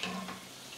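Bonda made from idli batter sizzles softly as it fries in hot oil, with a short scrape as a ladle stirs it, faint and close, with no talking.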